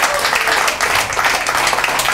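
Lecture audience at a healthy lifestyle talk keeps applauding, a steady, dense clatter of many hands that stays loud throughout.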